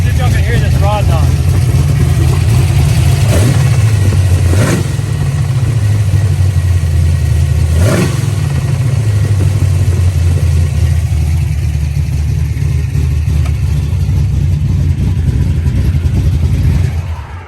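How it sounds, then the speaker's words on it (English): A Ford Mustang Fox-body engine with rod knock idles and revs loudly up close, with a low rhythmic knocking beneath the revs and a voice talking over it. "See if y'all can hear this rod knock."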